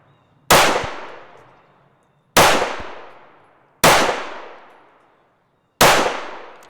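Four sharp gunshots from a compact handgun firing 115 grain Blazer ammunition, evenly spaced about 1.5 seconds apart, loud and close, each with a short echoing decay.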